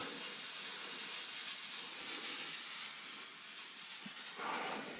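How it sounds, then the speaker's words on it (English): Steam hisses steadily from a pipe burst open in an old church boiler room near a tunnel and crypt, a loud continuous broadband rush with no voices over it. "We got a steam leak. Blew a hole right through."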